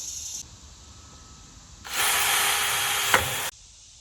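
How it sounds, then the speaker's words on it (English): A power drill runs a countersink bit into wooden bed slats, a steady loud whir lasting about a second and a half after a quieter stretch, with a brief sharp bite near the end. "So I'm using this countersink drill bit to countersink the slats so that the screws can go down into them and won't stick up."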